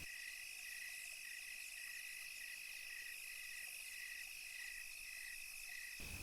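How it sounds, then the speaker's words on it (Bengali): Crickets chirp at night in a dense, continuous high trill that holds steady and fairly faint, with no other sounds, before it cuts off abruptly at the end. "ঝিঝি পোকাদের ডাক মনের ভেতর লাফিয়ে উঠছে।"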